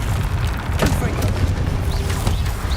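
The Confringo explosive spell is cast in Hogwarts Legacy on PS5, bursting with loud booms inside a dense, continuous wash of game sound, with a voice heard faintly.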